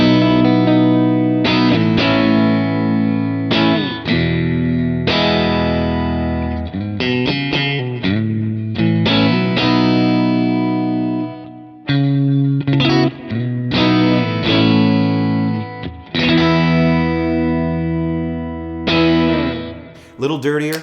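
Electric guitar through a Kemper amp profile called Match Indie M21, set slightly dirtier and played on the bridge pickup, gives a crunchy, mildly distorted tone. Loud chords and riffs ring out alone, separated by short pauses.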